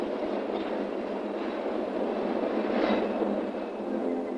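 A PATH commuter train rumbles steadily along its rails, a loud, continuous roar of wheels with faint clatter, heard alone without speech.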